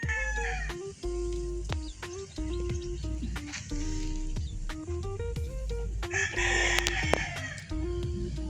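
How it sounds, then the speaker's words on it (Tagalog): A Kanaway Cross-toe Tornado rooster crows and clucks amid other farm chickens, with repeated fowl calls over a busy background of birds. "Ito namang pong manok na ito ay Kanaway Cross-toe Tornado."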